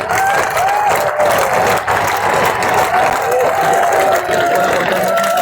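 Audience at a political rally clapping, a loud dense wash of applause from a large crowd that holds steady throughout, with a voice calling out over it.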